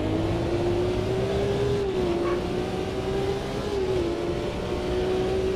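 BMW M1 Procar racing engine in the Automobilista 2 video game, a steady, loud sustained drone holding near-constant revs with slight pitch dips, alone without talk, during a drying wet race.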